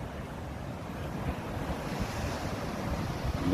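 Surf rolls in at Levante Beach on a sunny day, a steady wash of waves with wind buffeting the microphone, moderately loud and continuous with no voices.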